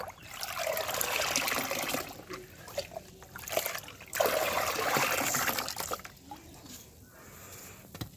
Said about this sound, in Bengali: আমি এবার এই জলটাকে সব ঢেলে নিলাম একসঙ্গে